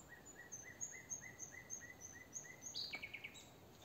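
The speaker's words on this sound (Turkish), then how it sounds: "Bak kuş seslerine bakın." Small birds sing in a forest, giving a steady series of evenly spaced high chirps at a moderate distance over a quiet background, with a brief brighter trill near the end.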